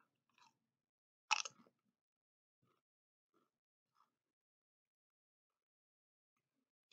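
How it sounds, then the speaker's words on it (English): Pringles Scorchin' Chili & Lime potato crisps being bitten and chewed close up, one sharp crunch followed by a few faint, sparse chewing clicks in a quiet room. "Satisfying initial crunch of the potato crisp, not oily or greasy."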